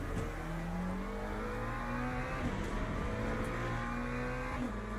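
Race car engines in the Le Mans Ultimate racing video game droning steadily at high revs, with shifting engine pitch and a brief rise near the end as cars run close together.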